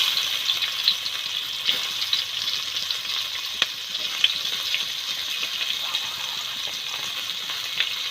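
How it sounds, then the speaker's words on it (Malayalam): Onions and tomatoes frying in a hot pan give a steady, close hiss of sizzling oil, with small pops and crackles scattered through and no talk over it. "എന്നിട്ട് അതൊന്ന് ചൂടായി വരുമ്പോഴത്തേക്കും നമ്മുടെ സവാളയും തക്കാളിയും ഒരുമിച്ച് ഇങ്ങനെ ഇടാം"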